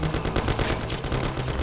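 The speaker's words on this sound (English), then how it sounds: "that guy just mowed me down with this Thompson" A Thompson submachine gun fires in Mafia, a dense, continuous burst of rapid shots under a heavy, booming low end.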